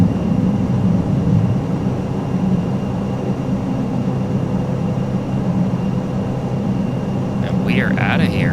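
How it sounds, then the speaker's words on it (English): An ATR 42-600 turboprop climbs after takeoff in Microsoft Flight Simulator, its steady engine and propeller drone filling the cabin at a constant level, with a brief voice near the end. "This plane wants to get off the ground really quickly."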